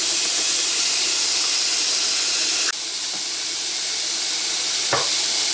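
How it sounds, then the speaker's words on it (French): Onion and garlic fry in olive oil, a dense, loud and steady sizzling hiss close by, broken only by a couple of brief utensil clicks. "On va faire cuire l'oignon"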